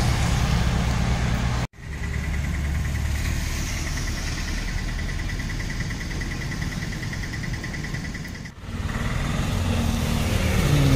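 Buses passing along a road near Tenali in the evening, a loud steady engine drone close by with a mid-range whine, broken by two sharp abrupt cuts, no talk.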